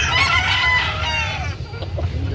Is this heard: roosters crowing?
yes